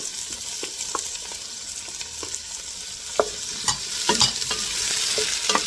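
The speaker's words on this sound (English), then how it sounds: "So I had the onion in there, make it like translucent or light in color." Onions and garlic sautéing in a pot for a Filipino pork bola bola soup: a steady close sizzle with repeated spatula scrapes and stirring knocks that grow busier toward the end, no talk.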